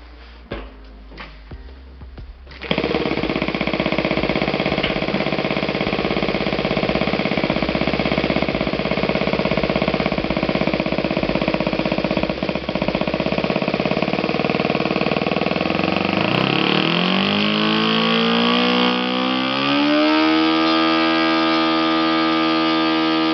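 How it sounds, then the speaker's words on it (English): A Saito FA 120S model aircraft four-stroke engine, swinging a 16x6 propeller on self-blended fuel in near-freezing weather, catches after a few starter taps and roars steadily at close range before revving down to a smooth idle. "So let's start an engine."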